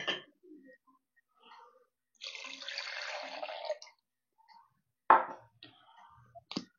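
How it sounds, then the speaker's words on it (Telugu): Washed almonds and water tipped into an almond milk maker: a short clatter, a sustained pouring splash lasting about a second and a half, then a few sharp knocks and taps. "సో దీనికోసం ఆల్మండ్ వాష్ చేసి తీసుకున్నాను, ఇంకా వాటర్ కూడా తీసుకున్నాను. సో ఇందులో వేసేద్దాం."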